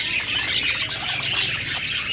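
A large flock of budgerigars kept for breeding chatters in a steady, dense stream of overlapping high chirps and squawks, close and continuous with no pauses.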